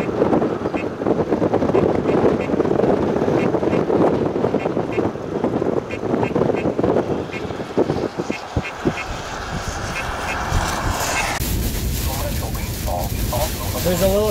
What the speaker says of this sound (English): I'll stop and we can record the wind